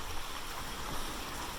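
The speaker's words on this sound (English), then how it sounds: "our trail led us to a beautiful babbling stream. Just listen to nature's music." Babbling stream on a summer nature trail, a steady broadband rush of flowing water that stays fairly loud and continuous throughout, with no voices.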